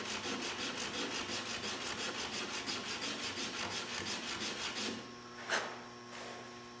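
Square ends of wooden pieces being rasped with a few back-and-forth strokes, a rhythmic scratchy rubbing that fills most of the stretch, then stops, leaving a single brief knock.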